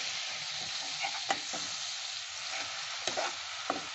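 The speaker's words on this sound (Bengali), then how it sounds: "জল দিয়ে এটাকে ভালো করে কষতে হবে" Egg and potato ghati masala stir-frying in a pan with a little water, a steady close sizzle with occasional scrapes and clinks of the spatula.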